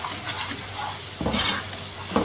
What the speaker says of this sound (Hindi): मिक्स कर लेंगे सारे मसालों को।